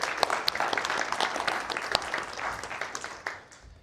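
An audience at an evening meetup claps steadily and fairly close for a few seconds. The applause fades toward the end, and no one speaks.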